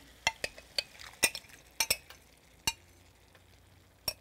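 Thai pineapple chicken fried rice being stirred with sauces in a pan: a series of sharp, close metallic clinks and scrapes of a utensil against the pan, irregularly spaced over a quiet sizzle.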